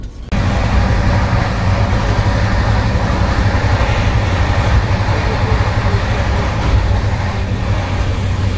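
Steady, loud rumble of a moving passenger train past Kanpur, India, a continuous low roar with rattling and clatter running unbroken from start to finish, with no voices.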